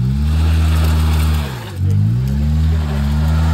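A lifted Honda Civic engine revs hard and close while trying to back out of an off-road rut, droning steadily, dipping briefly, then surging again.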